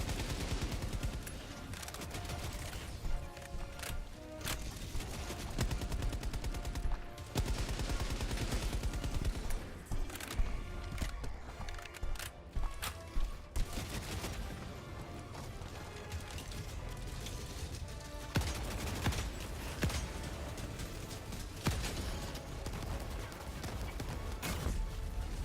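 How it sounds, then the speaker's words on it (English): Halo assault rifle firing in the game Helldivers, sustained bursts of rapid automatic fire mixed with other weapon sounds and mechanical clatter, running steadily throughout at moderate level. "They made the Halo assault rifle super accurate as well."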